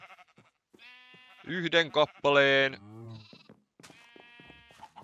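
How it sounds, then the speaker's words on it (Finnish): Sheep in Minecraft bleat in several wavering, nasal calls, loud and close in the middle of the stretch, with someone speaking Finnish at the start and end. "nyt mun pitäisi johdattaa muutama lammas ja mieluiten pelkkiä valkoisia"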